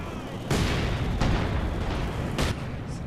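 Howitzer shells strike in the WWII strategy game Company of Heroes 2, three heavy booming impacts at roughly even intervals over a rumbling battlefield backdrop.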